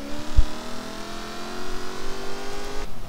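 Jaguar F-Type with a 5-liter V8 accelerating during a head-to-head run, a steady engine drone with layered harmonics holding near, with a brief low thump early on.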